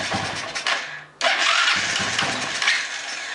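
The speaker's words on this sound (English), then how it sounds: "We'll put this back on the engine, see if it runs right." A small engine cranks and catches after a refitted fuel part is put back on, sputtering briefly before surging into a loud, ragged run close to the microphone.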